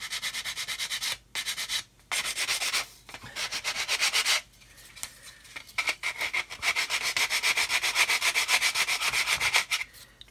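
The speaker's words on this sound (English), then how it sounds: "Careful not to touch our sanding stick on the edge of these landing gear bay roofs." Sanding stick rubbed back and forth on a plastic model kit around the landing gear bay roofs, a close, steady rasping scrape in rhythmic strokes with a few brief pauses.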